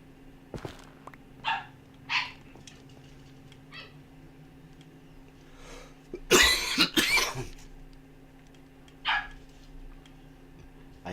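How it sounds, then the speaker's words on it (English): A man with a weather-related cough coughs several times during a Minecraft stream: short scattered coughs early on, a louder cluster of harsh coughs near the middle, then one more. There is no speech. "weather is giving me a cough."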